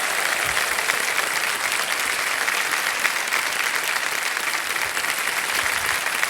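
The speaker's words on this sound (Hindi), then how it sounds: "हर तालियां बज जाएं जोरदार इनके लिए।" Loud, sustained studio audience applause on a TV quiz show set, a thick, even roar of clapping held for several seconds without a break.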